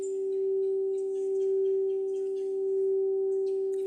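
Crystal sound bowl giving a sustained, steady pure tone that hums alone without break, swelling gently in loudness, with faint higher shimmer above it.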